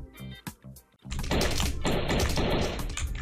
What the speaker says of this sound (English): Got a freaking assault rifle or something.